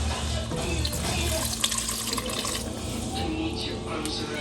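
Water runs steadily into a pot, a continuous splashing stream with a faint low hum behind it.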